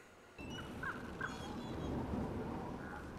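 Ravens cawing in an animated fantasy series, a few harsh calls standing out around the first second over a steady bed of background sound.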